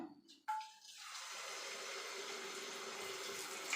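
Rice, coconut and jaggery batter hits hot oil with a sudden splash, then settles into a steady, soft sizzling hiss of frying that carries on without any talking.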